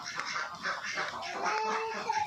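A domestic duck quacks in a series of short nasal calls at close range while it is being caught and handled, the quacks repeating irregularly over faint background noise.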